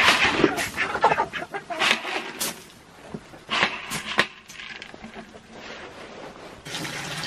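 Chickens cluck and squawk close by in a farm coop flock in the morning, irregular calls overlapping, with quieter stretches of rustling and soft clucks in between.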